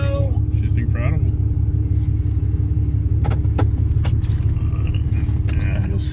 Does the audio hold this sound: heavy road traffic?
yes